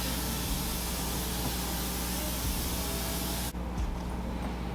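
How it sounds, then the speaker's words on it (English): An affordable makeup setting spray sprays in a steady, continuous hiss over several seconds and then cuts off abruptly near the end, with no talking. "if you are looking for an affordable setting spray that is going to lock in your makeup"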